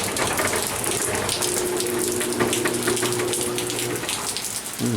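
Rain falls steadily on a brand-new Chevrolet Traverse, a dense, even patter of drops close by with a faint tonal hum underneath.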